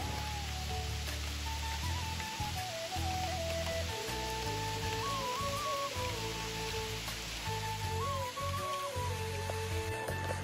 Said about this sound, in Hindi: बारिश हो रही है बड़ी ज़ोरदार